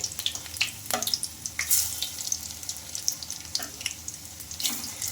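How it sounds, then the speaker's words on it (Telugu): Food frying in a pan, turned so both sides cook, giving a steady broadband sizzle with scattered crackles and brief spatters, close and fairly quiet, with no talk. "రెండు వైపులో బాగా ఫ్రై చేసుకోవాలి"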